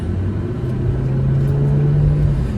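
A car driving, heard as a steady low engine hum and road rumble that holds evenly throughout, with no voices.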